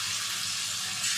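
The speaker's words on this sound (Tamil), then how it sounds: "மீன் பொரிக்கிறதுக்கு எண்ணெய் சூடாகி வந்துட்டு இப்போ இதில் நம்ம மசாலா தடவி வச்சுருக்கிற காளா மீன் சேர்த்துடலாம்" Masala-coated kala fish frying in hot oil, giving a steady, dense hiss and sizzle that holds evenly throughout with no voices.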